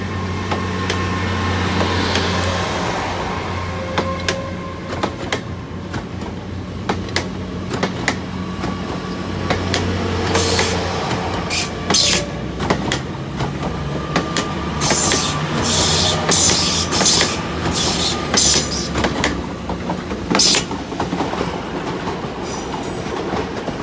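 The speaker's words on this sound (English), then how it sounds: "Cross-country service to York is about to leave as well." CrossCountry train pulling out of Exeter St David's station, a low engine drone and rumble with wheel clicks, squeals and screeches building over twenty-odd seconds, heard from the platform without talk.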